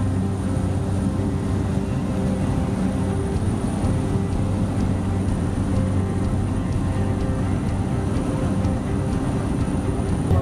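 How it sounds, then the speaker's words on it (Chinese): A seaplane flies over glaciers in Canada, its engine a steady, loud droning hum with a continuous broadband roar that holds unchanged from start to finish, with no voices. "Roger 告诉我，这样的景色只有搭乘水上飞机才能欣赏得到。"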